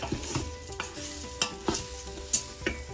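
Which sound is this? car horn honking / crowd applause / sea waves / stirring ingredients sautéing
stirring ingredients sautéing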